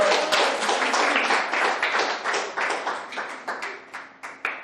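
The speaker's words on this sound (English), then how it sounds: "Give her a clap." Clapping from a small audience at a live-streamed fashion showcase, a modest group of distinct, fairly close hand claps in an uneven, pulsing rhythm that continues for several seconds.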